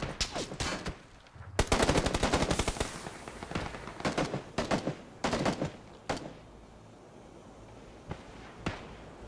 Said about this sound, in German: Kriegen noch Schüsse aus Süd.